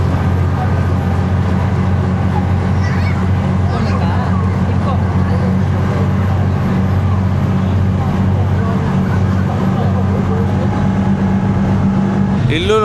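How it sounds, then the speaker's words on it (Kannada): A large, fully air-conditioned passenger boat with airplane-style seats motors through the Maldives, its engine a loud, steady drone with a constant hum and rushing noise throughout. "ಬೋಟ್ ಇದು."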